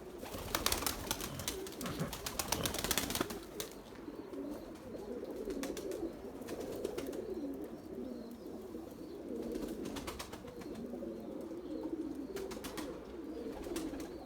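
Pigeons coo steadily and close by in a loft setting, with overlapping throaty calls and bursts of wing flapping and rustling near the start and again around the middle, and no talk.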